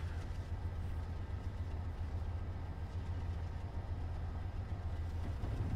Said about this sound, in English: Let's see what this locomotive can do.